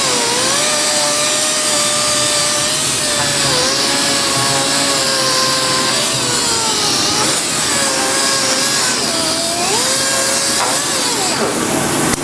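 Steady abrasive whine of an aluminum wheel's curb-rashed edge being sanded with 320 grit sandpaper, a continuous loud grinding hum with a wavering pitch, alone without talk.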